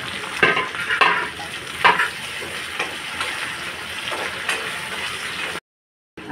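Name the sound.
chopped tomato and green chillies frying in a pan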